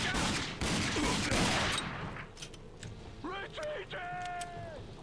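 Pistol gunfire in the shooter RAGE: a rapid burst of close, loud shots fills the first two seconds, followed by scattered fainter reports and whining electronic tones.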